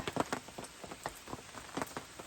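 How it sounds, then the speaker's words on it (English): Rain patters on a tent at a campsite, a faint, irregular scatter of soft drops tapping close by with no talking. "It's going to be a rainy night, but we're warm and under tent, so we are fine."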